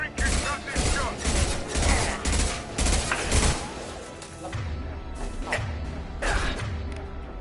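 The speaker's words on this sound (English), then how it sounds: "Firing concussive shots!" Concussive shots firing in Mass Effect Legendary Edition during a base fight against light mechs, a rapid series of heavy thumping blasts in the first half, then quieter rumbling impacts, with a voice briefly speaking over it.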